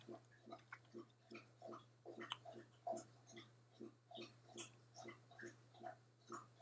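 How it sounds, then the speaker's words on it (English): Steady rhythmic wet lapping and slurping from a dog, repeating every half second or so over a constant low hum. "if you can hear that slurping in the background, that's my dog"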